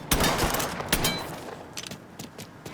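Rapid bursts of gunfire in the video game Mafia III, several sharp loud shots in quick succession at the start, then scattered fainter shots, with no talk.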